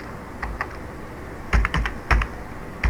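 Keystrokes on a computer keyboard while a spreadsheet formula is typed in: sparse clicks at first, then a quicker cluster of taps, close and fairly quiet with no talking.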